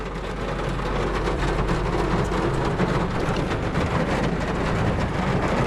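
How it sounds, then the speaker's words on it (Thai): Rain arrives in a forest at Khao Yai, a dense, steady hiss of falling drops that stays loud and constant with a low rumble underneath and no voices. "ตอนนี้ฝนมันมานะครับ"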